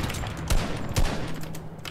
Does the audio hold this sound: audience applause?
no